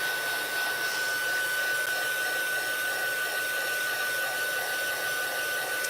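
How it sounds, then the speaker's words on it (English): A heat gun blows steadily at close range, melting embossing powder on paper for a Christmas card, a constant airy whoosh with a faint high whine running unbroken throughout. "Stay far away with the heat gun."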